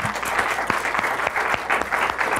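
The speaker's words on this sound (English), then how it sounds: "So those that are here, let's give Kathy a round of applause." An audience applauds following a university memorial lecture on aging, steady clapping with a few sharper individual claps standing out, sustained at moderate loudness across the whole stretch with no talking.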